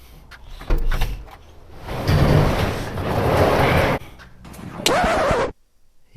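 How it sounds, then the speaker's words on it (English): Door of a 1940 Ford pickup truck being opened, a sharp metallic latch click followed by a longer creaking, scraping swing and a few more clunks before it settles into quiet. "You want me to open the door and show you?"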